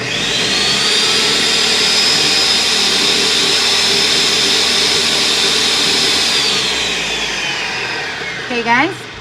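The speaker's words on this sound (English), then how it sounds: "I don't know how to work my blender." Blender liquefying chicharrón for pupusas, a loud steady whirring roar held for several seconds with a rising whine, then winding down at the end.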